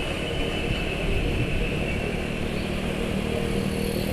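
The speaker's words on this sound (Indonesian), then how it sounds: "ini getaran mesin kerasa sekali ini" A motorcycle engine idling with strong vibration after an oil change to Vanolube SAE 40, a continuous loud, rough rumble with steady drone and no pauses.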